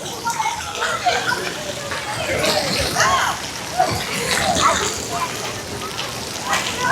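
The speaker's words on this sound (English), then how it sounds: "This is a really big splash pad area." A large splash pad at Rolling Hills Water Park in Ypsilanti, Michigan, with children playing: constant splashing and spraying water mixed with distant shouts and chatter, and voices talking over the busy scene.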